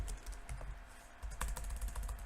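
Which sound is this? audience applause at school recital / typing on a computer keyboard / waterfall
typing on a computer keyboard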